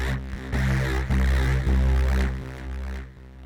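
A dense, gritty synth patch, After the Snow from Logic Pro's Alchemy, plays pulsing low chords with a bright, noisy high end and echoing delay repeats, loud and alone.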